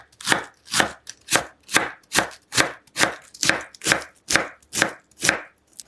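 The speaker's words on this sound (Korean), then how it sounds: "양배추는 가늘게 채 쏘세요." Rapid, even knife strokes on a cutting board finely shred cabbage, about a dozen crisp, close chops in a steady rhythm with no talking.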